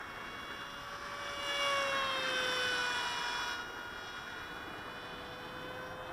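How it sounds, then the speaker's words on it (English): A Delta Wasp MK 2 fast delta flying wing model sweeps past with a high electric whine that rises and falls in pitch, growing louder then fading, heard from a moderate distance outdoors. "Ooh, it's flying a bit funny now, probably because the wing's a bit soft."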